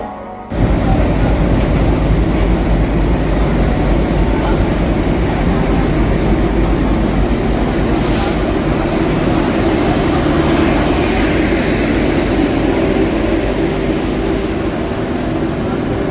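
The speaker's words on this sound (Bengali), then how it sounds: "এই যে পূর্বা এক্সপ্রেস ঢুকে গেল।" A Poorva Express passenger train, a premium Delhi-bound service, pulls into a station with a loud, steady rumble that fills the whole stretch without a break.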